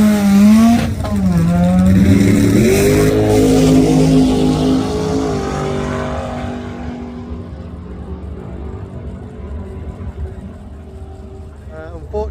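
Doorslammer drag race cars accelerating hard down the strip, a loud rising engine roar with shifting pitch that swells then fades into the distance, with a voice talking over it.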